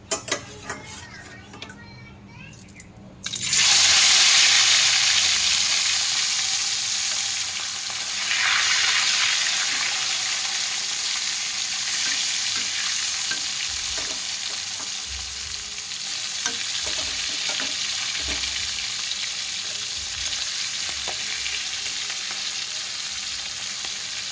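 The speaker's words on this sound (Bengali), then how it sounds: "তেল গরম হয়ে গেছে, মাছগুলো আমি দিয়ে দেবো" Hilsa fish pieces hit hot oil and burst into a loud, steady sizzle that settles into continuous frying, with occasional clinks and scrapes of utensils nearby and no voices.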